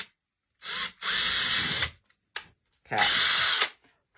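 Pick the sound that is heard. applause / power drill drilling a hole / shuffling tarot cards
power drill drilling a hole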